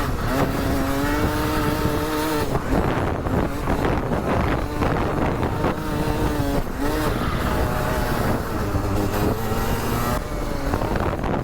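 Go-kart drifting on an outdoor karting track, a loud continuous engine whine with rising and falling pitch as the kart slides through corners, steady and close with wind buffeting the microphone.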